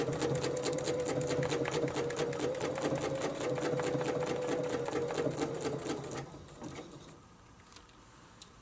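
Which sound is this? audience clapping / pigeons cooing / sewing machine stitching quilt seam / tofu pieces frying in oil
sewing machine stitching quilt seam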